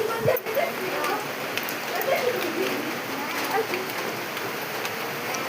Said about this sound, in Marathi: सगळीकडे पाऊस चालू आहे हे आमच्या इकडं पण पाऊस चालू आहे